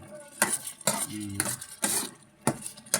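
Vegetables with coconut milk being stirred in a pot for ginataang gulay, a handful of distinct scraping and clinking strokes of a utensil against the pot, close and fairly loud, with quieter bubbling between them.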